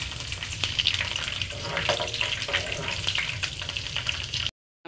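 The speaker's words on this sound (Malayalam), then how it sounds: "കറിവേപ്പില ഒന്ന് വഴറ്റണം." Curry leaves and ginger sauté in hot oil for a bitter gourd pickle. A busy, crackling sizzle with small spits runs close and steady, then cuts off abruptly near the end.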